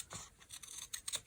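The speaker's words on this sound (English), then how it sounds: "It would have to be sharp scissors that can cut through the fabric" Sharp scissors cut through fabric with a few quick, crisp snipping and rasping strokes, close and faint in an otherwise quiet room.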